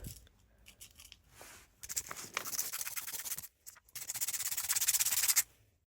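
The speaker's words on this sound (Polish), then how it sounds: "Teraz będę przyklejał te śrubki na kropelkę, ale zanim to muszę zeskrobać, żeby były bardziej chropowate" Small screws are scraped with a blade to roughen them, giving close, gritty rasping strokes in quick bursts separated by brief pauses.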